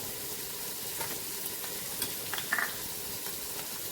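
Cumin seeds crackling in a hot pan as seasoning for a Turkish vegetable soup, a steady low sizzle with a few brief louder pops, close by and without voices.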